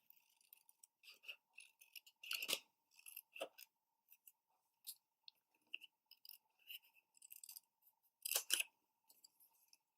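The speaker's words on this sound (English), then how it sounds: "And then I just need to cut these apart." Scissors snip through patterned paper in short, irregular close-up cuts, with quiet pauses and a couple of louder, longer slicing strokes, set against a faint steady hum.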